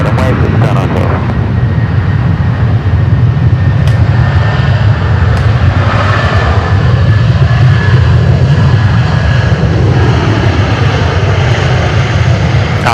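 Loud, steady roar of a jet airliner's engines on the runway at Sydney Airport, a constant broadband rumble with a faint whine, while radio air traffic control chatter sounds over it.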